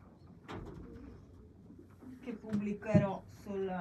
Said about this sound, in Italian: sto guardando i piccioncini, c'è un piccione